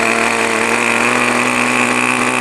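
A small glow or nitro RC model airplane engine buzzes loudly and steadily at high revs after its needle valve is leaned slightly, with a constant whine and no talk over it.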